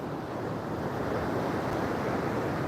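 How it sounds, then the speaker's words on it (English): Atlantic surf breaking along a Florida beach at Amelia Island, a steady, loud, unbroken wash of waves with some wind buffeting the microphone throughout. "But I know it's the waves."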